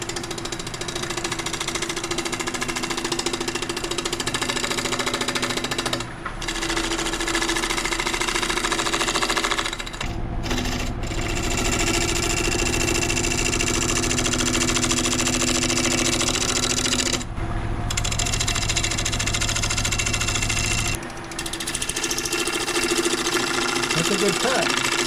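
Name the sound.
wood lathe turning and cutting a wooden platter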